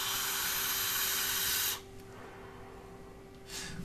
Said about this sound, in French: J'envoie de la vapeur, il n'y a pas photo, on la sent.